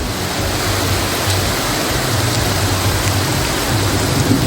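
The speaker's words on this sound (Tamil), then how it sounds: "மிதமான ஆரம்பித்த மழை பிறகு கனமழையாக மாறியது" Heavy rain pours steadily and loudly, a dense continuous hiss of water with no voices, the downpour filling the whole scene evenly from start to end.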